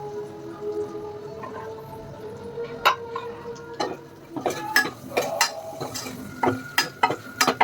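Large onions being stirred in a frying pan for sambar: scraping spoon and metal clinks with a soft sizzle underneath, picking up into quicker, irregular knocks toward the end.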